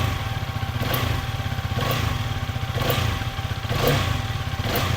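Hero Karizma XMR motorcycle engine running steadily nearby while the throttle is twisted lightly, giving a rhythmic series of short rev blips roughly once a second over a constant idle.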